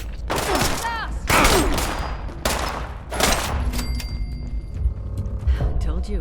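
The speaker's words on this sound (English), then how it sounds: "Shoot the gun! Fast!" Rapid bursts of gunfire in a Fallout 76 firefight, several loud volleys cracking in quick succession with a mechanical clatter and rumble underneath, voices barking over the shots.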